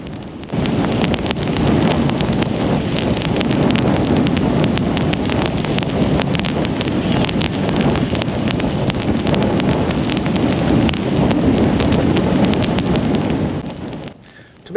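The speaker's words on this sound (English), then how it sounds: "turn the sound back up and let you listen to this rain while I fight this fish." Torrential downpour on the water off Jekyll Island, Georgia, during tarpon fishing: a dense, steady roar of heavy rain mixed with wind buffeting the microphone, constant and loud for nearly the whole stretch before fading at the end.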